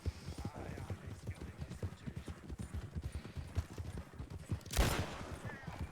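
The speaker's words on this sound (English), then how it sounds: "That is your warning shot." A single loud warning gunshot cracks out near the end of the RedM Western game scene, cutting through a steady run of galloping hooves and background voices.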